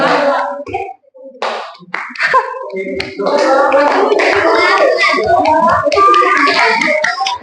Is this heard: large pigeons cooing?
no